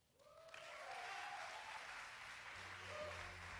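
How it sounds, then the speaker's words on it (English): An audience at a poetry slam breaks into applause, quickly swelling to a sustained, dense clapping with a few cheers. "Keep those claps clapping."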